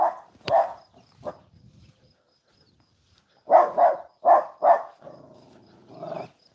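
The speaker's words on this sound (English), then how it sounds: "What are you barking at?" A dog barks in two bursts, first a few scattered barks, then a run of four loud, close barks ending in a lower growl, with no talking.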